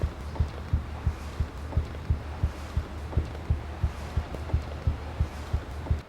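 A fast heartbeat sound effect thumps in a regular low pulse, about two or three beats a second, steady and close over a faint hum.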